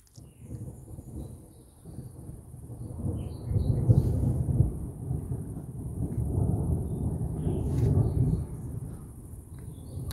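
Electric thunderstorm on 11 June 2023, with a long, deep rumble of thunder rolling and swelling over steady rain, a distant, sustained roar that rises and lingers.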